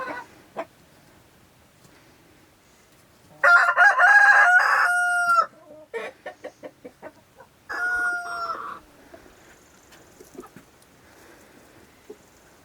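Chickens at a rural homestead in Nepal: a rooster crows loudly twice in long drawn-out calls, with a run of short clucks between them and softer scattered clucking afterward.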